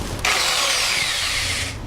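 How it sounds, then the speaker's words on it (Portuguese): Electric drill boring holes while building an organic vegetable garden: the motor starts abruptly and whirs loud and steady for over a second before stopping, close up, no talking. "Vou brincar aqui com a furadeira."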